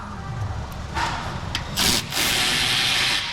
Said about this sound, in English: I'm going to help it up a little bit with the rachet that I got here.